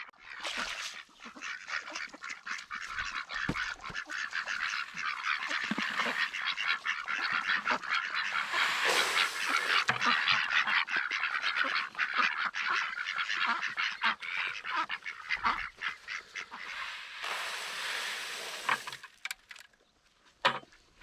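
A dense flock of ducks and geese honks and quacks continuously on a cool fall morning, many birds calling at once at close range and fading near the end.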